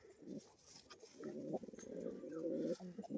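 Pigeons coo in low, throaty bursts, close and fairly faint, with rustling and soft background noise around them.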